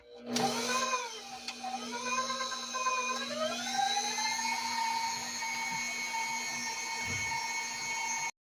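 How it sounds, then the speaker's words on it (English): An electric mixer runs steadily on its lowest speed, creaming vanilla frosting for a cake, a whining motor hum that drops in pitch as it loads and then holds a constant drone, fairly close. "I'm gonna let that mix. First gear."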